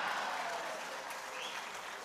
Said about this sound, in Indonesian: sedikit-sedikit tepuk tangan, tepuk tangannya keras lagi